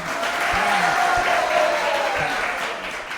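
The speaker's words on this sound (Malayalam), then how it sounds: "ഒരു കൈയടി ശക്തമായിട്ട്." Applause from an audience at a youth retreat, steady crowd clapping throughout with a few brief voices rising over it.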